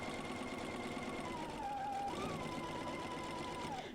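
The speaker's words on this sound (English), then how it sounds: "So back to our sewing machine." Sewing machine stitches fabric on the diagonal for a quilt block, a steady fast mechanical whir with a faint rising and falling whine running continuously through the clip, no voices.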